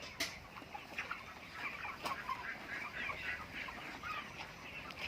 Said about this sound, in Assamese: বয়লাৰ মুৰ্গী হয়